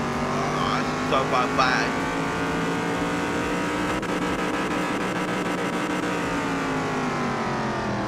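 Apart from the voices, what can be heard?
lowered Opala car engine driving, from video game Car Mechanic Simulator 2021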